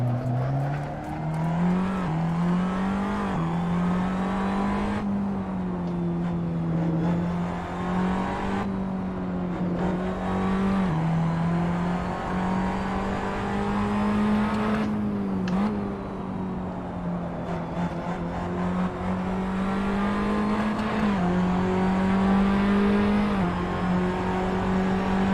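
Race car engines in the video game Assetto Corsa, a loud, sustained engine drone that rises and dips with shifts and throttle changes throughout, with brief lifts before revving back up.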